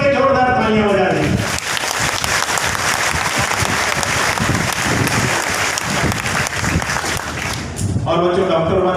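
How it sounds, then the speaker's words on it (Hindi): Strong applause from an audience for parents at an Allen event, swelling into a long, dense roar of clapping, with a voice speaking just before and after. "तो जरा प्यारे प्यारे पेरेंट्स के लिए हाथ ऊपर करके जोरदार तालियां बजा दें।"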